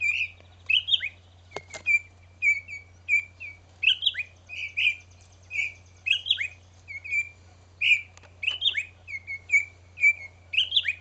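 Parent birds chirp repeatedly near a baby bird, giving rapid, bright tweets in quick rhythmic bursts at close range with no talking over them.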